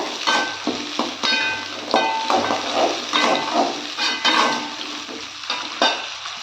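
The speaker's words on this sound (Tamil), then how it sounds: "இப்போ வெங்காயம் வந்து நல்லா வதங்கணுங்க" Onions and curry leaves sauté in hot oil in a pan for onion kulambu, a close, steady sizzle broken by repeated scraping stirs of a spoon against the metal, with no talking.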